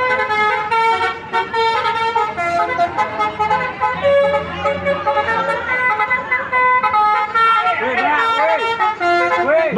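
An Eka express bus passes on an Indonesian road, sounding a loud multi-tone musical horn in repeated melodic bursts over rumbling traffic, close and dominant throughout.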